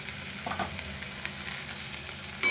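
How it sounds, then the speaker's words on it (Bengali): Ground coriander and cumin spices frying in a pan, a steady bright sizzle with occasional stirring scrapes, close and continuous with no talking. "দিয়ে এটা খুব ভালোভাবে কষাবো।"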